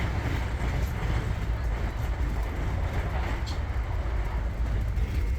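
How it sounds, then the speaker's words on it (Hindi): Steady, loud rumble and rush from inside the Chandigarh–New Delhi Shatabdi Express as it crosses the Sachkhand Express, a continuous broadband roar of train motion with no clear breaks. "ये सचखंड एक्सप्रेस से हमारी ट्रेन की क्रॉसिंग हो रही है"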